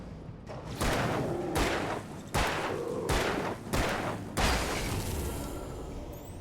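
Gunfire in the video game Alan Wake: about six heavy, booming shots, each with a long ringing tail, fired at roughly even intervals through the passage.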